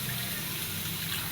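Water pours into a cooking pot of frying masala for a chicken curry in one brief, steady gushing splash, close and even.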